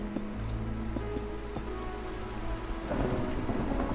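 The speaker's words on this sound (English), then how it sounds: "It's a thunder." Rain falls steadily while thunder rumbles low and heavy, building into a louder crackling roll near the end, with faint background tones and no speech.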